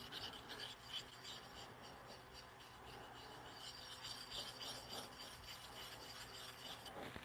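A broken piece of dressing stone rubs back and forth against the wood of a bunk bed rail, a quiet continuous rasping scrape heard up close with no talking.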